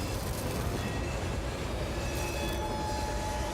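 A train rumbles loud and close with heavy, continuous rail noise and faint wheel squeal, heard in a Mission: Impossible film.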